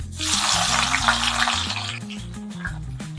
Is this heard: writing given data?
no